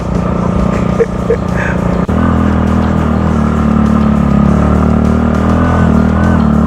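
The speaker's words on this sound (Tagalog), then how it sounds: "nahihirapan din yung motor ko" A trail-type motorcycle engine strains steadily on a rough trail near Bamban, Tarlac, its loud, continuous drone holding close to the rider with a brief knock near the two-second mark and faint voices underneath.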